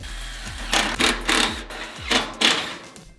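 A power driver sinks the final screws into a wood stove in an off-grid fishing cabin, whirring in several short repeated bursts that each wind down, close and moderately loud.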